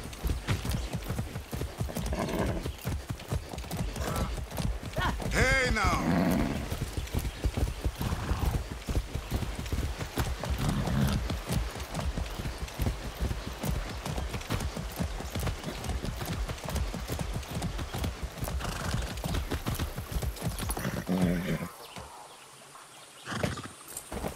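Steady hoofbeats of a horse walking in the Far Cry 6 video game keep a constant clip-clop rhythm for over twenty seconds, with an occasional snort or whinny, before the steps stop.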